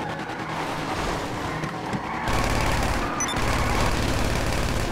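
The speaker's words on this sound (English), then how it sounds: "You got me shooting the wrong person." Automatic gunfire in GTA 5 Online cracks out in loud, rapid bursts over a busy in-game street backdrop, with a heavier stretch of sustained shooting in the second half.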